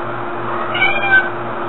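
A cat gives one close, drawn-out meow in the middle, rising over a steady low background hum, with no one talking.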